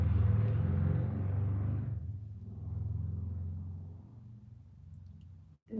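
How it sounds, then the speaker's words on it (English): A heavy car engine rumbles deeply and loudly nearby, then eases to a softer, lower drone that fades out, ending with a brief click. "Did you hear the car? That sounded like a really heavy engine."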